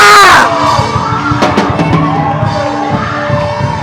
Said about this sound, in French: Est-ce qu'on peut crier Alléluia?